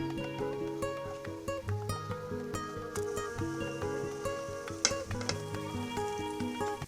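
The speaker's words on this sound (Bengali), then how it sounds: "সবগুলো প্যাটিস আমি তেলে দিয়ে দিয়েছি" Chicken patties frying together in hot oil in a frying pan over a low flame, a steady bubbling sizzle throughout with a couple of brief sharper crackles, no talk.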